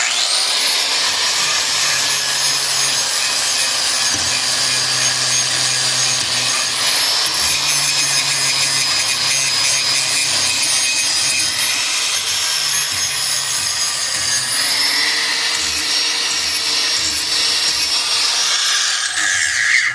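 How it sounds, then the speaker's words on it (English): An angle grinder with a flap disc grinds steadily along a John Deere mower deck blade, a loud continuous abrasive whine with a slight pitch shift near the end, heard alone. "Basically doing the same exact thing but with the flapper disc."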